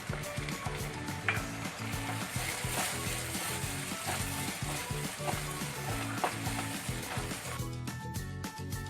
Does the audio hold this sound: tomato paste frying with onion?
yes